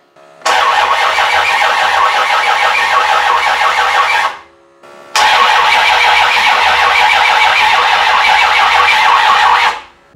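A 360 Magnum V8 on a run stand cranks loudly in two sustained bursts of about four seconds each, separated by a short pause, without catching because the coil has no 12 volt feed.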